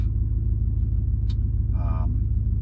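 Steady low, loud exhaust rumble from an idling rear-mounted turbo Audi RS4 with exhaust in loud mode, with a brief hiss and a short tonal whine partway through.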